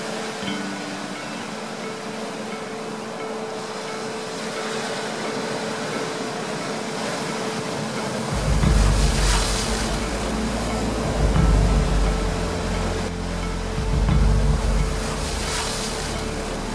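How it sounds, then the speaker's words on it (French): Surf at high tide on the north coast of Finistère, a steady roar of waves with heavier swells breaking close by in the second half, rising in several loud surges with no voices. "Les vagues ont confisqué mon poste d'observation habituel."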